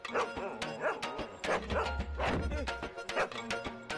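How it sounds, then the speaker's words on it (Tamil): A German Shepherd dog barks, yips and whimpers in a tense indoor scene of a Tamil film, with bursts of close, loud barking and thumps over background music across four seconds. "இங்க ஒரு கொலை பிடிச்ச நாய் இருக்கடா உள்ள"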